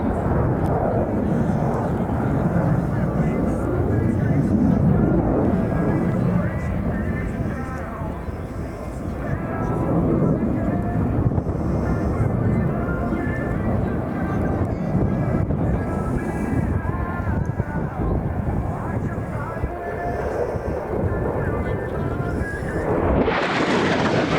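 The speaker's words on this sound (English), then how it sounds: "The aircraft accelerating at 20 knots per second once the undercarriage flaps have been retracted, and repositioning now for a very impressive high-speed pass." A jet aircraft making a high-speed pass at the Royal International Air Tattoo air show: a loud, continuous roar with heavy wind buffeting, holding steady throughout and rising sharply in the last second.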